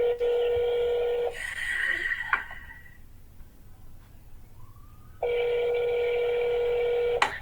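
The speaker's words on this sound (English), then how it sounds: "Let's see if they answer the phone. Come on, answer." Ringback tone on an outgoing telephone call, two long steady ring bursts at the start and end of the clip with a quiet gap between them, no talking over them.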